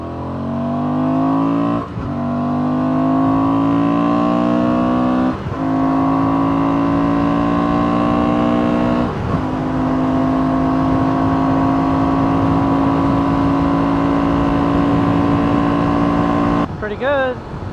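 A 2024 Honda Transalp 750 motorcycle engine on a ride, droning steadily as it climbs through the gears with brief dips at each shift, heard close and continuous under rushing wind.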